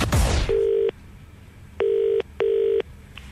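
Telephone call being placed: a brief burst of rapid dialing tones, then steady tonal beeps in a repeating on-off pattern, each lasting about half a second, clear and close with no talking.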